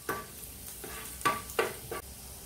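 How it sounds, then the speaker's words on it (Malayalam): Mixed vegetables for white sauce pasta are sautéed in a pan, heard as a soft, low sizzle broken by a few distinct scraping stirs at irregular intervals, quiet and close, with no voices. "ഇനി നന്നായിട്ടൊന്ന് വഴറ്റി കൊടുക്കാം"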